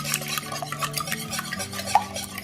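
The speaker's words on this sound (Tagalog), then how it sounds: "I-whisk natin ang ating itlog." Eggs whisked in a bowl for a banana cake give a rapid, steady scraping and tapping of a whisk against the bowl, close and continuous with no talking.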